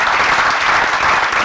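A loud, dense round of audience applause at a talk on chronic lymphocytic leukaemia, many people clapping close by in a steady unbroken burst without speech.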